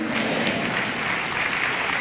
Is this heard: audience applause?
yes